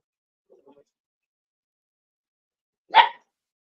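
A puppy gives one short, sharp bark, clear and fairly close, after a long quiet stretch broken only by a faint murmur of a voice.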